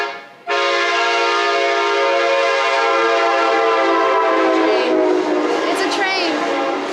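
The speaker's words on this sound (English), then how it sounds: "It's a train." A train passing with its horn sounding loud and close, one long sustained blast with a steady rumble beneath.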